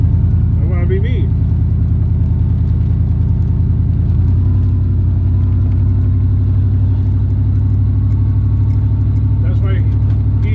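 A truck engine rumbles steadily from inside the cab while driving, a low continuous drone with a slight shift partway through, while a voice talks over it throughout.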